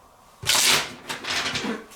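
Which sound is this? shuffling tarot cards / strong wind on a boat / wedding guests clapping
shuffling tarot cards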